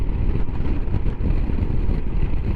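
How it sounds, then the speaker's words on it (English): A Royal Enfield Himalayan motorcycle engine running at about 4,500 rpm on a road near Pont Aven, a steady, dense, low drone mixed with wind rush, loud and continuous. "That engine sounds as sweet as a nut, you know."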